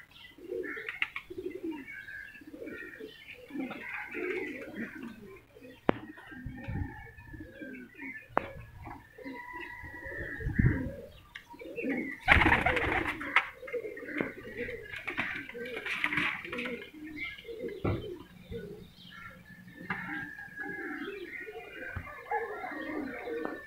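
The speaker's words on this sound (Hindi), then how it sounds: "ये बटेरा कबूतर है, बटेरे में से क्रॉस है" Many pigeons, including a crossbred Batera pigeon, coo continuously in soft, overlapping low throaty calls, with small birds chirping and a brief flutter of wings mixed in.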